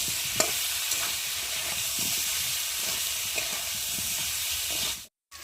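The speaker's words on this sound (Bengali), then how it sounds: "আলুর সাথে মশলাটা ভালোভাবে কষিয়ে নেবো, যতক্ষণ না একটা মশলার কাঁচা গন্ধ যাবে ততক্ষণ আমি কষাতেই থাকবো।" Potatoes and spice masala sauté in oil in a pan, giving a continuous close frying hiss with soft, irregular stirring scrapes, and a sudden brief cut to silence near the end.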